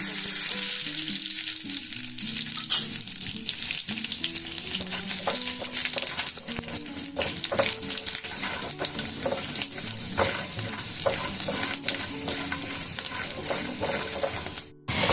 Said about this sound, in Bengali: বড়ি ভাজা হয়ে গেছে, দিয়ে দিচ্ছি দুটো শুকনো লঙ্কা, 5 ফোড়ন।